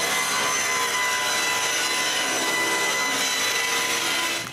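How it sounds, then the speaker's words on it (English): A power saw rips a solid maple V-edging strip from a board in a continuous loud, harsh whine that holds steady for several seconds before tapering off at the end. "After the profile is cut, I rip it out of the board."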